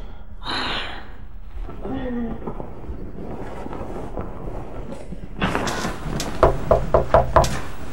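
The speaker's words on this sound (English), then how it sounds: "Somebody's at the door." Several sharp knocks on a door come in a quick, close series near the end, after heavy breathing and gasps and brief voice sounds in the first seconds.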